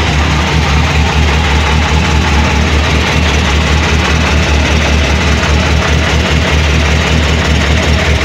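A car engine idles steadily and loudly after a very cold start, a low rough rumble with a faint rhythmic knock running through it, no talking.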